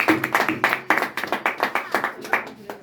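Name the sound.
audience clapping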